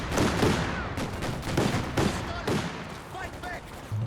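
Rapid bursts of flak half-track autocannon fire in the World War II strategy game Company of Heroes 2, repeated loud rattling volleys over continuous battle noise.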